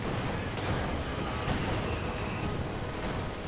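Gunfire in the video game Company of Heroes 2, grenadiers shooting in a dense, continuous battle clatter with a few sharper cracks standing out from a rumbling background.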